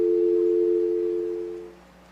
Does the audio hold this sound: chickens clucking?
no